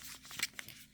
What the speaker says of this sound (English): I use applique scissors and I cut out the shape